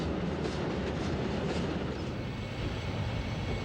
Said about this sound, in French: le train véhicule juste ce qu'il faut de wagons de marchandises pour enrichir la carte postale